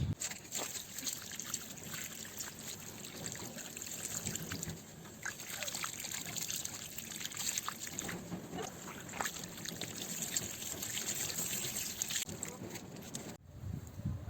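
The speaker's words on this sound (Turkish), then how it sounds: "Daha net bir görüntü elde edebilmek için şimdi bu düzeneyi suyla yıkayacağım." Water pours and trickles over a rock-and-root arrangement, forming a steady close wash with small splashes that cuts off near the end.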